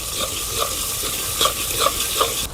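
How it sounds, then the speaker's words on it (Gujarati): Farm-fresh eggplant for a rustic oro cooks with salt in a pan, as a spoon stirs and scrapes in a steady rhythm, several distinct strokes over a constant close sizzle. "હવે ઘડીક હલાવીએ."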